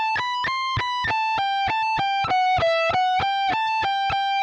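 Distorted electric guitar plays two bars of a solo. A steady run of about a dozen evenly picked notes wavers slightly in pitch. The playing is loud and close, with no voices.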